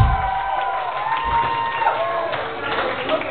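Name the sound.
concert crowd applause and cheering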